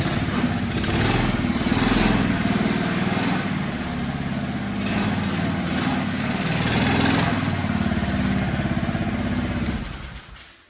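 Scorpa trials motorcycle with a poorly tuned carburetor, its small engine running close and loud in a steady buzzing drone that wavers slightly before cutting off abruptly at the end.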